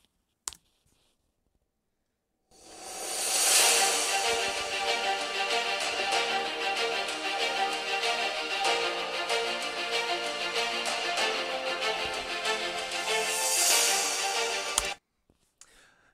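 Music plays through the built-in speakers of a ThinkPad T14 Gen 3 laptop set to 80% volume, a steady, fairly thin full-band mix running for about twelve seconds between near-silent gaps.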